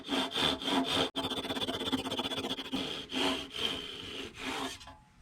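Hand sawing cuts a wooden ornament finial free from the lathe, a series of close, rasping back-and-forth strokes with a rapid burst of short strokes before slower pulls that fade out at the end.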